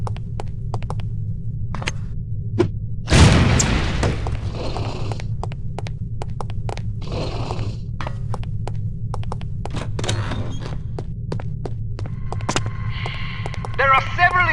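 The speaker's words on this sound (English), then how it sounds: "These relatively inconspicuous-looking lipsticks are actually powerful explosive devices that detonate on impact." A lipstick explosive detonates in the No One Lives Forever video game: one sharp, loud blast a few seconds in, over a steady low hum with scattered faint clicks and small game noises afterward.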